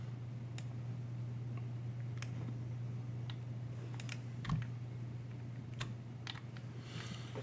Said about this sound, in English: I'm typing in SSH hyphen, let me clear the screen